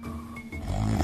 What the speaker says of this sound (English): He looked inside and saw that it was the wolf who was snoring.